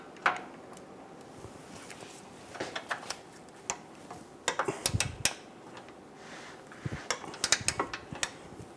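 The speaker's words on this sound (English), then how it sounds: "Torque the rear bolt to 111 foot-pounds." A torque wrench tightens the rear bolt of a front lower control arm on a Buick Enclave, giving a series of quiet, irregular mechanical ticks and clicks that bunch into short bursts, close by and without talk.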